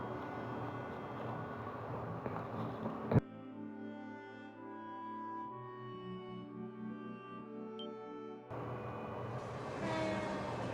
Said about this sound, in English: Hey, it's a train from Erebonia.